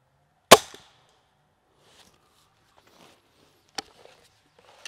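A Gamo Shadow IGT 24-joule spring air rifle fires a sharp, close crack, followed by a second, softer shot and faint clicks and handling sounds between them.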